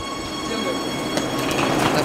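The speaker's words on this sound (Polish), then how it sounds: "Metro warszawskie!" A Warsaw metro train pulls into an underground station with a steady rolling roar, rail rumble and faint squeals building slightly toward the end, loud and close.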